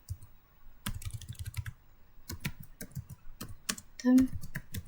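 Fingers type a router command on a computer keyboard, rapid close key clicks in uneven bursts with short pauses and one louder clack near the end, with no one talking.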